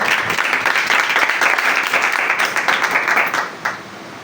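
A church congregation bursts into loud, dense applause that holds steady for several seconds before thinning out, the many claps merging into a continuous roar.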